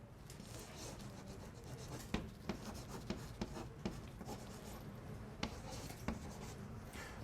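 Chalk scratching and tapping across a board in a calculus lecture on second derivatives, a steady series of sharp strokes and clicks, close and fairly quiet, with no talking.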